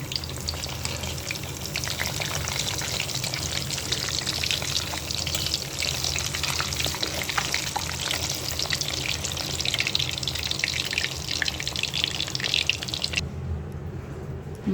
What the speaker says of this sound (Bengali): মাছটা আমার ভাজা হয়েছে